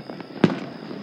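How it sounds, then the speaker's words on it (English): Fireworks at a Fourth of July celebration: one sharp, loud explosion pops out against a quieter backdrop of faint, distant crackles. "We got the fireworks."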